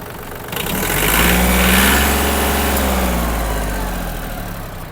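A Kubota compact tractor engine revving up close by, its mid-pitched diesel note rising and holding steady before easing slightly, with no talk.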